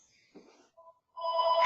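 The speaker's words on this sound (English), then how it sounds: "It's not my phone." Phone ringtone sounds during a conference call, a short electronic tone pattern followed by a louder sustained ring, fairly clear over a quiet line.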